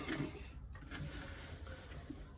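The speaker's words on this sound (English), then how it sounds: "So we are stitching it on almost on a quarter inch to the end part" A sewing machine stitches a shirt collar roll at a quarter-inch seam, a quiet, steady mechanical whir with light rhythmic ticking and no speech.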